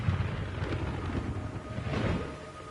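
Dense, steady rumbling wash like heavy rain pouring down in Metal Gear Solid 3, with deep low rumbles swelling through it, continuous and fairly loud.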